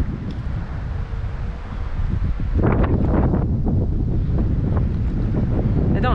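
Strong wind buffets the microphone beside a Central Pennsylvania limestone stream during fly fishing, a loud rumbling roar that grows stronger after the first couple of seconds and keeps gusting throughout.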